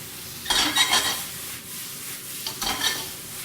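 Mushrooms cook in butter in a pan for pan-fried gnocchi, with a soft sizzle under two bursts of scraping and stirring against the pan, close and clear with no talking.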